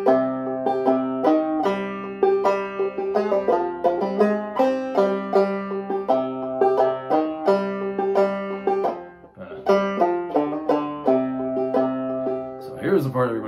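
Clawhammer banjo plays the verse of the sea shanty "The Wellerman" at a slowed tempo, with bright plucked notes and a steady bouncing rhythm, played alone and close up, with a short dip near the end.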